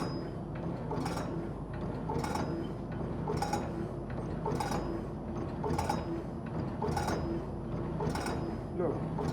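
An electric, fully mechanical cigarette tobacco filling machine runs with a steady rhythmic clatter, sharp clicks repeating roughly every second over a continuous mechanical hum, with a person talking now and then.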